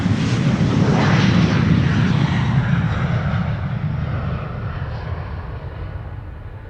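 An Airbus A350 at departure from Amsterdam Schiphol Airport, its jet engines giving a loud, deep, continuous roar that slowly fades as it moves away.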